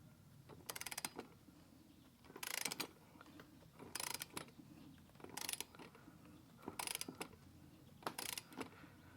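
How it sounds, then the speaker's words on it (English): Ratchet-style clicking from a torque wrench tightening the clamp bracket on a Mariner 60 hp outboard motor, coming in six separate bursts of rapid clicks with quiet pauses between them, close and fairly faint. "we're going to switch over to our torque wrench."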